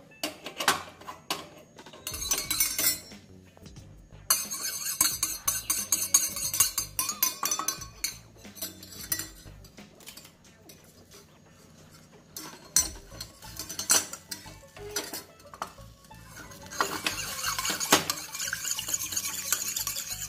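A spoon scrapes and clinks against a pan while a salt and oil mixture is stirred over a stove, with irregular bursts of metallic clatter separated by quieter gaps.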